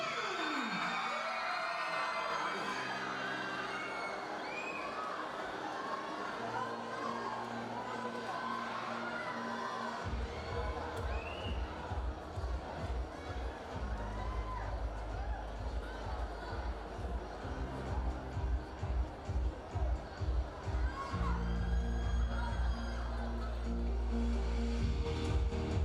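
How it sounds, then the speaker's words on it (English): An audience at the Mr. & Miss Hundred Islands 2019 grand coronation night cheers, whoops and claps. Loud crowd noise holds throughout under a booming sound system, with rhythmic bass pulses and voices in the mix. "have another warm round of applause for our entertainment for tonight"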